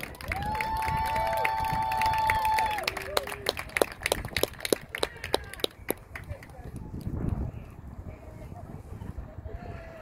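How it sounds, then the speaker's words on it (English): A crowd at a high school women's varsity soccer senior night claps and cheers loudly at first, the sharp claps thinning into scattered ones and fading, with a whistle-like cheer and voices mixed in. "How about a big round of applause for the Branham High School women's varsity soccer class of 2021?"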